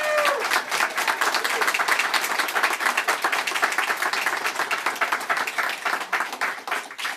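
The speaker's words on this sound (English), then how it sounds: "Yes, applause." A crowd claps in a dense, sustained wave of applause that stays strong throughout and thins slightly toward the end.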